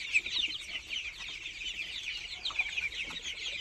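A flock of 24-day-old tiger chickens keeps up a continuous high chatter of clucks and peeps, close and moderately loud, with a few slightly sharper calls and no voices.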